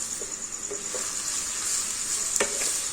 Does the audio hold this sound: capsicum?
yes